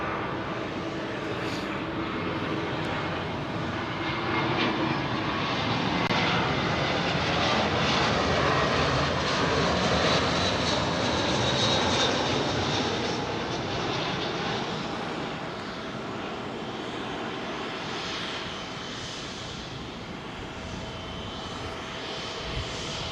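An airliner arrives on runway 27L at Heathrow with a sustained, loud jet roar that builds and peaks in the middle before easing slightly, a continuous engine rush with no talk.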